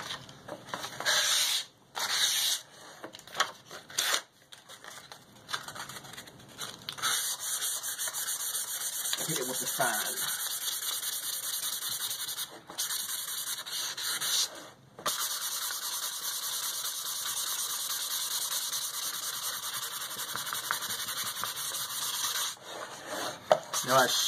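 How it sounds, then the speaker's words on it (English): A blackboard is sanded with coarse-grit sandpaper in long, close, hissing strokes that continue almost without a break, with a few short pauses. "I'm going to go for the heavy grit real first"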